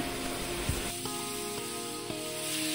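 Onions and tomato fry in a pan for a Tulu-style cassia tora leaf palya, a steady close sizzle with faint stirring scrapes and soft pops throughout, no voices.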